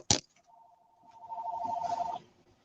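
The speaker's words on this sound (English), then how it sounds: "goddamn phone, hold on, y'all." A phone rings with a sharp click at the start followed by a steady two-tone electronic ring lasting about two seconds, fairly close and clear, with faint background murmur.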